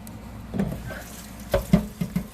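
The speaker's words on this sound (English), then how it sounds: "We form it into a ball and run cold water over it." Cold well water running from a tap over a ball of homemade butter made from raw milk: a quiet stream with irregular splashes and trickles as the butter is handled and rinsed nearby.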